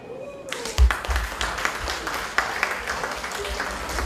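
Audience clapping at a festive celebration from the Bassar region, starting abruptly and continuing as a steady, moderately loud patter of hands with occasional louder knocks.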